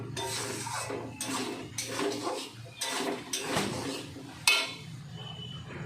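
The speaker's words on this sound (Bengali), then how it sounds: "ডালটা দিয়ে আমি একটু নাড়াচাড়া করে নিই।" A spoon stirs lentils (dal) in a cooking pot, giving a series of close, scraping and clinking strokes about once a second, with no talking.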